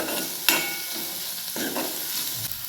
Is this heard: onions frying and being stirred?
yes